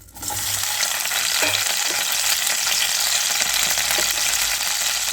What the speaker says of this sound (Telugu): ఒక కడాయి తీసుకుని వన్ టేబుల్ స్పూన్ ఆయిల్ అనేది వేసుకుందాము పచ్చిమిరపకాయలు వేసుకుందాము